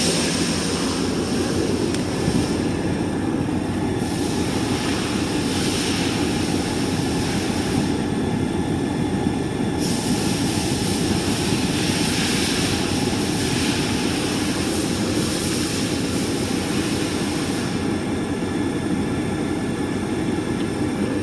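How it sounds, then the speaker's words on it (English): Car engine idling with the air conditioning running, heard as a continuous broadband roar with a steady fan-like whoosh that holds evenly throughout, fairly loud and close, with no voices. "The vehicle's been running for about 5 minutes now"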